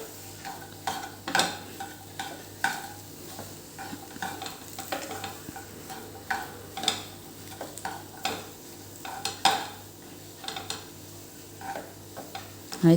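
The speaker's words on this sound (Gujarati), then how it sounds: "છેલ્લે એની અંદર 1/4 ટીસ્પૂન જેટલો ગરમ મસાલો અને લીલા ધાણા એડ કરવાના અને એને એક વખત ફરીથી મિક્સ કરી લેવાનું" Spoon stirring samosa stuffing in a hot pan after garam masala and green coriander go in, with repeated scraping strokes and clinks over a soft steady sizzle, close and unhurried.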